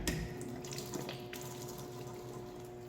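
Hot water poured for coffee, a soft continuous trickle and splash with a faint hum underneath, fairly quiet and alone without talk.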